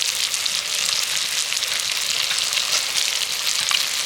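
Red lentils (masoor dal) added to hot spice masala in a pan, frying with a steady, loud, dense sizzle and crackle throughout, no voices.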